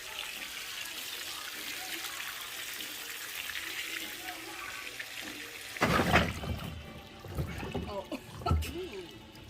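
Water pours out steadily during a messy clean-up, a continuous hiss that turns into louder, splashier gushing partway through, with voices faintly mixed in.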